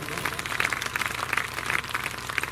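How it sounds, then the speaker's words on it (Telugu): Audience applause at a church meeting, a dense, steady patter of many hands clapping with crowd noise throughout, moderately loud and close. "అందరం చప్పట్లు కొడదాం."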